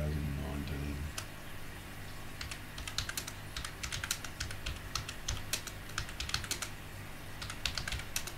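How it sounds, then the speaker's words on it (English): Rapid, irregular clatter of keys on a computer keyboard, close and fairly loud. It starts after a second of low hum, with bursts and brief pauses throughout. "I definitely can't talk while I'm typing."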